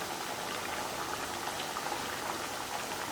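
Gujarati farsi puri deep frying in hot oil over a medium flame, giving a steady, dense sizzle and bubbling that stays even and continuous throughout.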